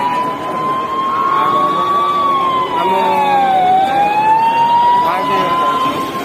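An ambulance siren sounds at a building fire at Italy Chowk, loud and near, with one long wailing tone that slowly sweeps down in pitch and back up, over a rumble of crowd and traffic.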